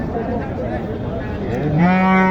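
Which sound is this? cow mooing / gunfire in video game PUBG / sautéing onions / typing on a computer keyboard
cow mooing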